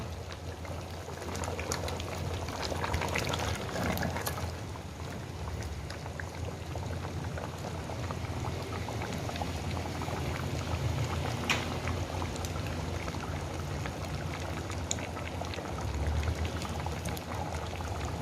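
Lahori street-style beef bong stew simmers on low heat in a pot, giving a steady, continuous bubbling and gentle spattering throughout, with no voices.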